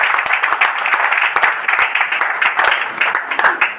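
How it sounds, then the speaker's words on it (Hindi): Applause at a poetry evening honouring Maithili Sharan Gupt, a moderate crowd clapping in uneven rippling bursts with distinct individual claps standing out. "एक बार जोरदार तालियां।"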